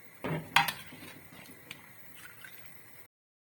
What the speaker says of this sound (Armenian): Հիմա հատ-հատ ջրից կհանեմ